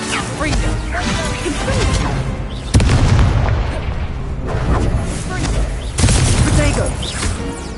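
Confringo explosion spell blasts in the video game Hogwarts Legacy, loud booming crashes and whooshing impacts layered over continuous dense game noise, with two sharper hits standing out partway through.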